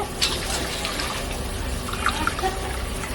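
Water poured into a pot of rice for mutton gilli biryani, a continuous liquid trickle and splash with small bright drips over a steady background.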